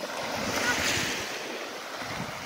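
Sea waves washing onto the shore at a beach in early summer, a steady broad surf wash with some wind over the microphone, close and continuous for a few seconds without talk.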